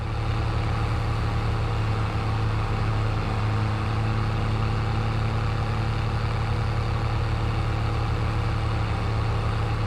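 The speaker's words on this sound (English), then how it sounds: "it's got a right grunty engine" Engine idling in a farming video game, a steady low grunty hum with a strong low drone throughout, alone and without talk.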